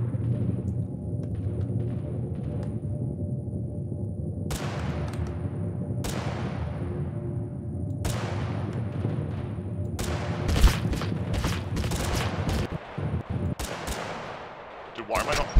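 Gunshots in Totally Accurate Battlegrounds ring out as several sharp, separate cracks over a steady low game rumble, with a denser burst of shots near the end and people talking throughout.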